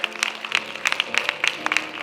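An audience at a church Black History program applauds children after a youth presentation, with scattered, moderately loud claps that come in irregular bursts, and faint voices mixed in.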